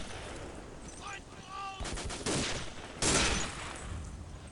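Gunfire in the World War II shooter Day of Defeat: sharp bursts of shots arriving in a couple of loud volleys amid game ambience, with a brief tonal game sound before them.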